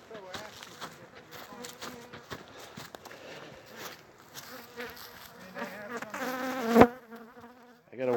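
Honeybees buzz close and agitated around a beekeeper after a sting, a steady insect drone with the keeper's voice and footsteps mixed in, rising to a louder burst near the end.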